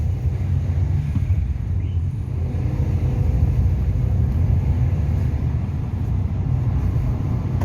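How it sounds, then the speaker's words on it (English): A Fiat 500's engine and exhaust idle with a steady low rumble, even and continuous, heard close with no talking. "has to be that little exhaust sound."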